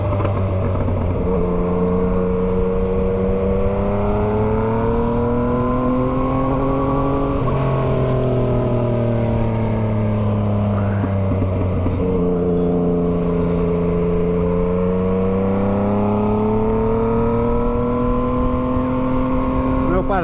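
A Yamaha MT-09 motorcycle fitted with an Atalla exhaust runs close by, its engine note rising and falling through repeated revs as it rides through a town centre.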